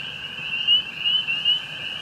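A leopard frog calls at night, a loud, close, sustained trilling drone with a few pulsing swells, heard alone with no talking over it.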